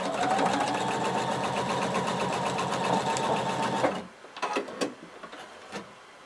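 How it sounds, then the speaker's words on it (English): A sewing machine runs steadily in a fast, continuous stitching burst across the folded bottom inch of a floor-length duster cardigan band, then stops abruptly, leaving a few faint handling clicks and rustles. "I want you to sew across the bottom 1 inch."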